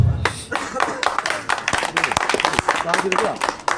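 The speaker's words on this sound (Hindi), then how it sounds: "तालियां बजिए" A crowd at an outdoor political support rally in a colony neighborhood claps in sharp, irregular bursts, close and distinct individual hand claps rather than a smooth roar, while a voice talks over it.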